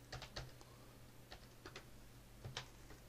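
Someone typing on a computer keyboard, with sparse, irregular clicks in small clusters that sound faint and close, over a low steady hum.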